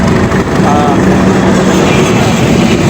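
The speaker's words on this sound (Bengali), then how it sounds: "আর ট্রেন কিন্তু একটা আসতেছে" A train rumbles steadily and loudly nearby, arriving slowly at a village station, its heavy low drone filling the whole scene with faint rattling as it rolls along the tracks.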